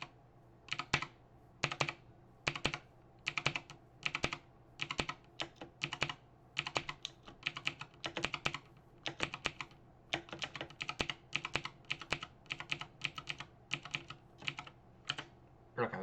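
Rapid bursts of keystrokes clatter on a computer keyboard while a Minecraft player works mouse and keyboard, loud and close, in uneven clusters over a faint steady hum, with no talking.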